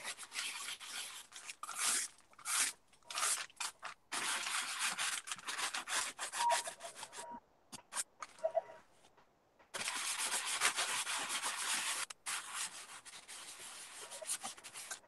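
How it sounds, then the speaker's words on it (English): Hand sanding scrapes over a small craft piece in repeated rasping bursts, loud and close, with short pauses between runs of strokes and no talking. "I'm just going to sand it"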